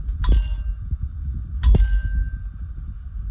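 A stainless steel dinner bell struck twice about a second and a half apart, each ring bright and clanging, then fading with a lingering tone.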